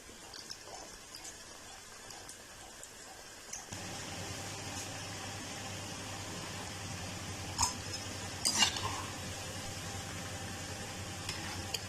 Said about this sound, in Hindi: इनको गोल्डन फ्राई होने तक जो है वो फ्राई कर लेंगे